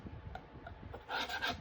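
Paint scraper rasping across a wooden sign board, quiet short scraping strokes that grow slightly louder and brighter toward the end.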